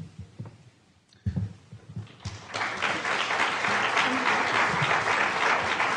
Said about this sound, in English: let's try to hold the rest of the applause until the end